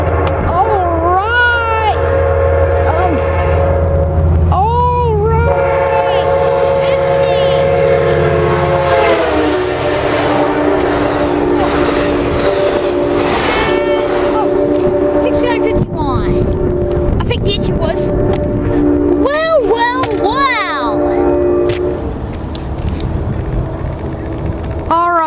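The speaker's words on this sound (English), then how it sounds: "This train's going to be really loud." A Coaster and Amtrak train roars past at close range in Carlsbad Village, California, with loud rumbling, screeching wheels and horn-like tones; voices talk over the din.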